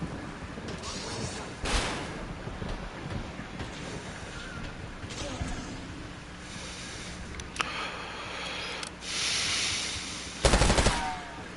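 Gunfire from a shooter game on a PS5 Pro comes in rapid bursts and single cracks over a steady game-audio bed, with a louder burst near the end.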